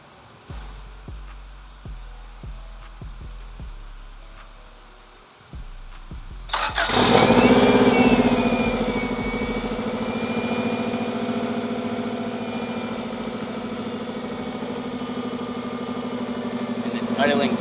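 A 1992 Subaru WRX engine cranks with a rapid rhythmic starter chug, catches with a loud rising roar, then settles into a steady, even idle close by.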